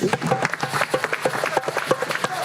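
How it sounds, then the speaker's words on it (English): A crowd at a live-streamed international celebration claps in a dense, lively round of applause, many quick overlapping claps close by, with no voices over it. "let me hear a round of applause again"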